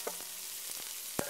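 Chopped carrots and onions sizzling in a pork roast pan, a soft, quiet fry hiss with a few brief clicks and pops.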